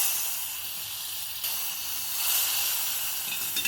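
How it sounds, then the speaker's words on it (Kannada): Steady loud hissing sizzle of hot mustard-seed tempering poured into a bottle gourd buttermilk curry, like hot oil spitting, holding without a break for several seconds. "ಇದು ಒಗ್ಗರಣೆ ಹಾಕ್ತೀವಿ"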